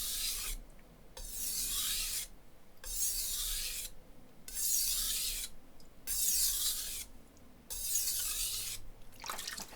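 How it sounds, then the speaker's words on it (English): A knife edge scrapes back and forth across the 400 grit side of a budget whetstone in about six long, rhythmic strokes, each a close, gritty rasp separated by brief silences. "So I'm going to do some stropping here, clean the edge up, then we'll hop to the 1000."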